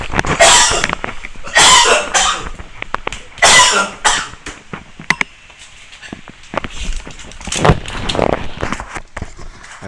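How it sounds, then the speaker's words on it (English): A person with a bad cough during a live trading session gives several harsh, loud, close coughing bursts in the first half, then quieter scattered throat noises and breathy sounds. "really don't know why I'm getting a very bad cough"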